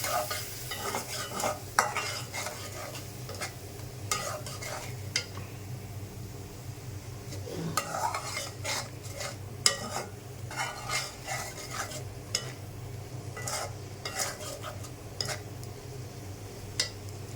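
Pieces of chili fry in oil in a pan, with a soft steady sizzle under sharp, repeated scrapes and knocks of a utensil stirring against the pan, close and moderately quiet.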